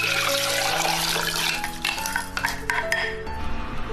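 Soaked beans and their reddened soaking water tip into a ceramic stew pot, a splashing pour with clinks and rattles of beans against the pot, loud and close, tapering off near the end.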